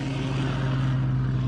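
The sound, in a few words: Spitfire aircraft flying during landing practice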